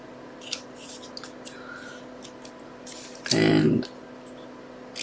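Scissors cut a shape out of a piece of envelope paper for a handmade card, with soft close snips followed by one longer, louder burst of cutting, and faint background noise around it.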